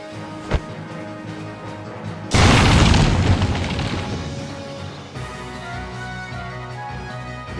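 A heavy booming mortar cannon explosion in Valkyria Chronicles erupts suddenly, loud and rumbling, then decays over a few seconds against a steady game background hum.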